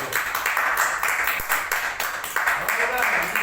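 An audience at a customer-experience event claps in a steady, dense round of applause, fairly close and loud, with voices faintly underneath.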